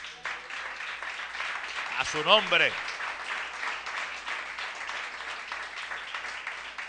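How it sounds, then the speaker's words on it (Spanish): Church congregation applauding to God during a Spanish-language service, a broad steady wash of clapping under a preacher's voice and a brief shout. "Dele un fuerte aplauso a Dios"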